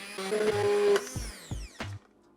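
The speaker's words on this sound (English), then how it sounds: "Take your soup while it's still hot, take a mixer and mix everything." A hand mixer whirs through hot vegetable soup, holding a steady motor whine for about a second before breaking into short stuttering bursts that cut off abruptly.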